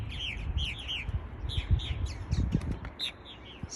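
Purple martins call repeatedly in bright chirps and gurgling warbles at a garden birdhouse colony, moderately close, over low rumbling background noise.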